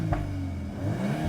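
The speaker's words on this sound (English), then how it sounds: "I will give it a little rev, it will sound a lot different as well" A VW Golf R Mk8 fitted with an Akrapovic exhaust idles with a deep, steady rumble and then takes a light rev, the low engine note climbing briefly. It sounds close and carries no talk.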